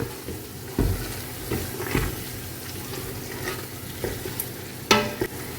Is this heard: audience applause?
no